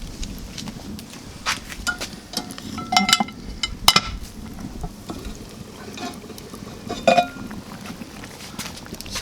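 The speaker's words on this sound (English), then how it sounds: "we're going to pop that lid off, have a check and see how we're getting on" A metal lid is lifted off a Caribbean chicken stew pot simmering on a Kadai fire bowl outdoors, with several close, bright clinks and scrapes scattered through a soft bubbling background, no talking.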